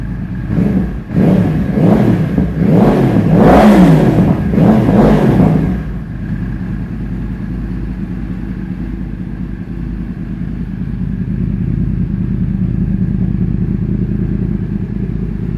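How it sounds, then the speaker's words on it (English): A warmed-up 2012 Yamaha YZF R1 sport bike engine revs hard in several loud, rising and falling bursts, then settles into a steady, lower idle rumble for the remainder. "I wouldn't dare rev it without having it warmed up."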